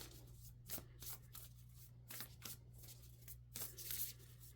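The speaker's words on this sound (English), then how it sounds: "Let's pull some oracle cards" Oracle cards are shuffled by hand in several soft riffling bursts over a low steady hum, close and quiet, with no talking.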